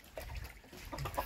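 A fighting cock clucks in short, close bursts against faint background noise.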